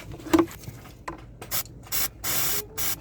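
Brake cleaner sprayed onto oil residue on a Citroën C4 Grand Picasso engine, with several short hissing aerosol bursts after some light handling clatter, close and fairly loud.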